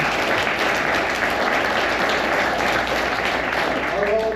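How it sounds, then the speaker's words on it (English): A conference audience claps for battlefield foundation volunteers, dense sustained applause filling the room throughout. "give those folks a round of applause"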